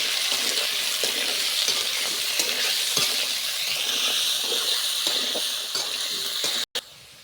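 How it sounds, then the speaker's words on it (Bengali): Half-fried potatoes being stirred in a pan for a Bengali cucumber curry, with a steady hissing sizzle and a few soft utensil scrapes, close by with no talking. "দিয়ে এবার আমি আলুটা নেড়ে দেব।"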